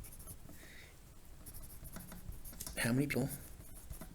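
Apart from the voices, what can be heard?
writing a math question down by hand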